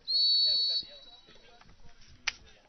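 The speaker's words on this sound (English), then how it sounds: "whistle blows" A sharp, shrill referee's whistle blast at a college tournament final lasts under a second, then a voice talks quietly over faint crowd noise.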